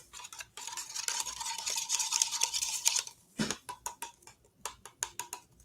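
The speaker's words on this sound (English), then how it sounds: "let's stir this up" A brush or stick stirring a small batch of paint colour mixture in a container, a steady scraping swirl for a few seconds, then a sharp knock followed by scattered light taps and clicks, close and quiet.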